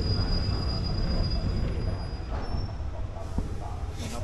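Ordinary train 259 running between Taling Chan Junction and Salaya stations, heard on board: a loud, steady low rumble of wheels and carriage with a faint high whine, continuous throughout.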